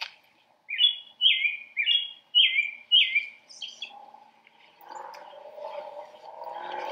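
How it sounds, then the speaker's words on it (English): An American robin sings outdoors on a trail, giving a clear run of five or six quick warbled phrases in a steady rhythm, followed by softer background noise. "So the bird that we're hearing in the background is the robin."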